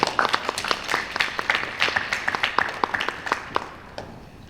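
Audience applause at a school National Junior Honor Society induction ceremony greeting a new member, a dense run of many hands clapping at a steady pace that thins out and fades toward the end.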